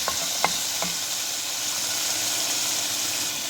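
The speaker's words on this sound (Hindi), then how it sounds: "इसको हम थोड़ा सा भूनेंगे कि अदरक लहसुन जो हमने पेस्ट ऐड किया" Ginger garlic paste frying in a pan, a steady hissing sizzle with a few light clicks of stirring near the start, close and continuous.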